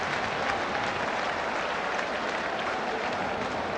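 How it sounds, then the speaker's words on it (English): A 1982 football crowd at Portman Road, Ipswich, applauds a goal by Notts County, steady distant wash of many hands clapping heard as a broad continuous roar from the stands. "generous applause here from the Portman Road crowd"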